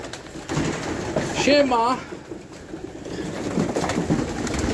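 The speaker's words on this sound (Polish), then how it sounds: "Gołębie karmimy." Pigeons being fed coo softly in a brief warbling burst against outdoor background noise, with a voice speaking nearby.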